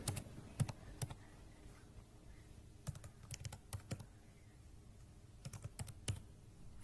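Code being typed on a computer keyboard in short bursts of quick, close clicking keystrokes separated by brief pauses, quiet and with no talking.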